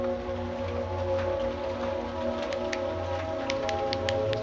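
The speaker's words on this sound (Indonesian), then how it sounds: "Saya terjebak hujan di video ini." Rain falling outside an abandoned house, a steady dense hiss with scattered sharper drips and ticks, continuous and fairly loud, without talk.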